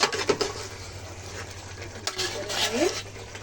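Chicken rezala gets stirred in a cooking pot, a spoon scraping and clinking against the metal in short irregular strokes over a faint sizzle, close by.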